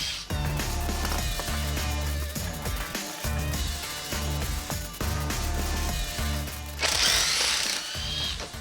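A battery impact driver backs out a run of fasteners in a tool comparison test, giving loud, continuous buzzing hammering bursts with brief pauses between screws and a harsher, brighter stretch near the end.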